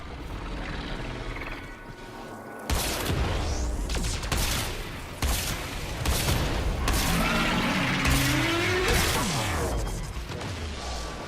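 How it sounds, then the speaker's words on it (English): Amp void blast fire against the Teralyst in Warframe, a dense stream of rapid booming blasts and crashing impacts, continuous and loud throughout with layered game effects. "You use your amp, or the void blast from your amp, to shoot the Teralyst."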